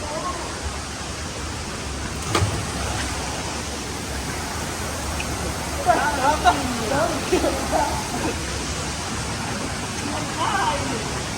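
The Takapala waterfall in Malino, Gowa gives off a steady, broad roar of falling water, loud and continuous throughout, with people talking faintly over it.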